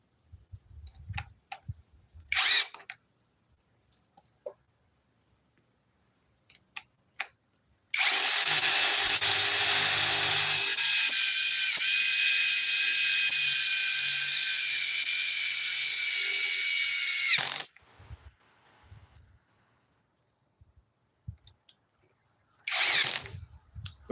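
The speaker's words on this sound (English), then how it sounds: "See if the drill can even do them all" A power drill runs at speed 2, whining steadily for several seconds at high pitch, framed by brief knocks and handling noises before and after.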